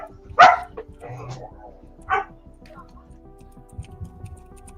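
A dog barks twice, sharp and close, amid background chatter and ticking noises as people talk during action-figure packing.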